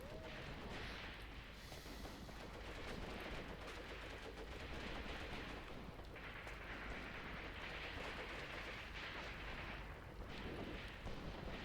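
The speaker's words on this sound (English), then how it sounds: "Heard a machine pistol firing there, a German one I mean." Automatic weapon fire from a German machine pistol in the WWII tactics game Graviteam Tactics, set in the Second Battle of Kharkov, rattles as sustained dense bursts within a loud, continuous battle din of gunfire and distant explosions.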